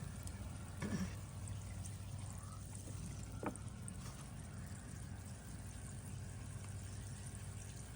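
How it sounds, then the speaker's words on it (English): A small solar air pump pushes air through an airstone submerged in water, giving a steady low bubbling wash with a faint trickle, close and continuous with a few brief splashy pops. "Yeah, that is definitely nice strong bubbles."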